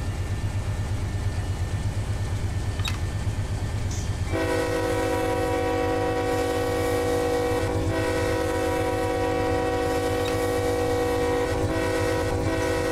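A heavy coal train of about 28,000 tons in Run 8 Train Simulator labors uphill with a steady low diesel drone, and a sustained multi-tone horn joins partway and holds to the end.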